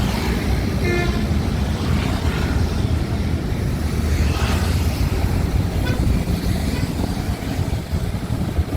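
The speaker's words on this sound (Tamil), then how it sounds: "பயங்கரமான டிராஃபிக் இருக்குது" Heavy road traffic rumbling near the Madhya Kailash flyover, a dense, steady drone of engines and tyres with occasional horn toots.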